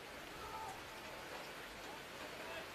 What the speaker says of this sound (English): Rain tumbling down here at North Hobart Oval.